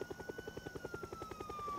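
Helicopter flying overhead in the zombie survival game Project Zomboid, a steady rhythmic rotor thump with a faint whining tone, fairly close and heard alone.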